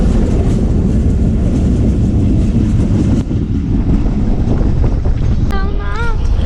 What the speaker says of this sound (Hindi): ये हमारी ट्रेन अभी 15 से आगे निकली है।